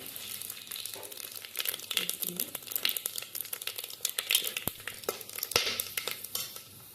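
Whole spices and leaves sizzle and crackle in hot oil for a Telugu bagara and mutton pulusu, a dense steady frying hiss with stirring clinks and scrapes close by, no talk.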